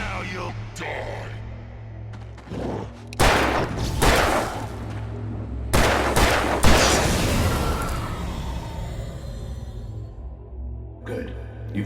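Gunshots in Alan Wake Remastered, several heavy booming shots in clusters with scattered thuds and crackling tails, loud and close, over a low ambient game drone.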